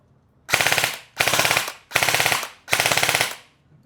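An ENC 603 airsoft gun fires on full auto in four rapid rattling bursts, each about a second long with brief pauses between, loud and close with no talk.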